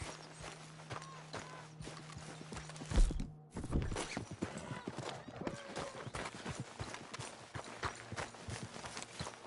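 Horse hooves clip-clopping in Red Dead Redemption 2, a steady run of close hoofbeats with a heavy thump near the middle and a low hum in the background, no voices.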